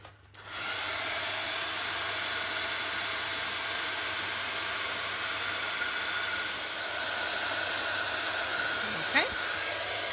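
A hair dryer drying paint on a craft tag switches on and runs with a steady, loud, close whirring blow, holding nearly constant for about ten seconds.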